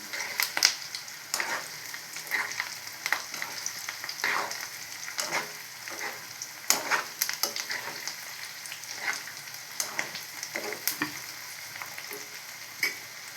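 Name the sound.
colocasia roast frying and being stirred on low flame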